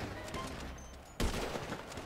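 A single sharp gunshot cracks out midway through a short stretch of busy game noise in GTA V Online, loud and close against a steady background.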